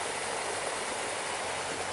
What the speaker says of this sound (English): You can probably hear the aerator in the background.